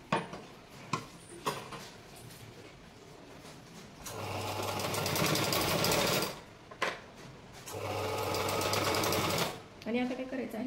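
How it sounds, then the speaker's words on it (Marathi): Two long runs of a sewing machine stitching a blouse seam, close and steady, with someone talking in short gaps between them and light clicks of fabric handling. "तर आपण शिलाई देणार आहोत बघा."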